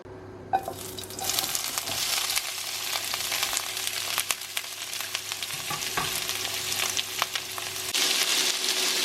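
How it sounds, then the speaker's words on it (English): Vegetables fry in a hot pan for creamy Cajun chicken pasta: a continuous crackling sizzle with occasional sharper pops and stirring clatters, fairly close, and the sizzle swells louder near the end. "You just want to cook your veg until it goes a nice sort of like translucent colour and a little bit softer"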